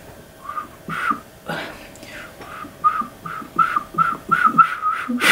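Someone wearing braces attempts to whistle in a series of short, breathy, airy notes, mostly pitched but uneven, with puffs of air between the attempts.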